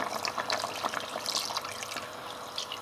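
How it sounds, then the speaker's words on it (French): Broth poured into a pot of veal sauté, a continuous close splashing and trickling of liquid lasting a few seconds, with no talk. "quand ça bouge, j'ajoute le bouillon à hauteur"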